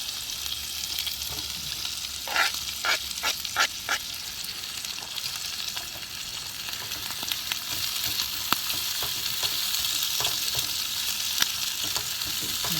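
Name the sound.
sausage, potatoes and onions frying in a pan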